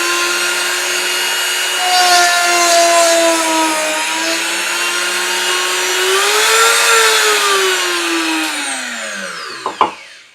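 A Dremel rotary tool mounted in a workstation drills holes at high speed, a loud, steady high-pitched whine that rises and falls slightly in pitch, then winds down sharply and stops near the end.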